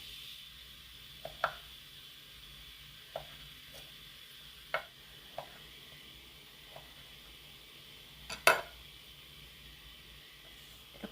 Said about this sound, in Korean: 곶감 두 개를 제가 얼려놨던 건데 잘게 잘게 잘라서